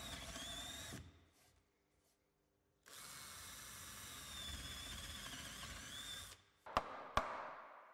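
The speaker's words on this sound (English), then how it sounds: "Use a 12 mm drill bit to bore several holes through the positions marked" Power drill with a 12 mm bit boring holes through staircase newel posts, two steady whining runs separated by a silent pause, followed by a few sharp knocks, close and with no talk.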